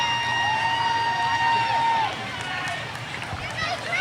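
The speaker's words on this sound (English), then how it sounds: "cheering on the little kids" Crowd of fans cheers at a school homecoming parade, a steady outdoor roar with whoops, while a bright tone sounds near the start and fades.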